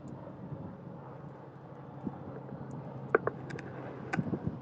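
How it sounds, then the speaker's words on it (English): A helicopter passes over the Jones Beach boardwalk, heard as a distant, steady low rumble blended with wind and outdoor background, with a few brief knocks and clatters near the end. "There's helicopters. See, when we have things flying by, I feel better."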